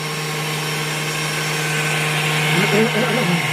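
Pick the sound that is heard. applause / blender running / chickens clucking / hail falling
blender running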